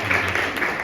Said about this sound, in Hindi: एक बार हम लोग फिर से ताली बजा के इनको